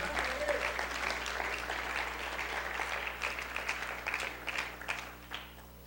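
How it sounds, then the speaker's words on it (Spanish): Members of a church congregation applaud during a sermon, thick sustained clapping that gradually thins toward the end into scattered individual claps, with faint voices mixed underneath. "Démosle ese aplauso fuerte al Señor"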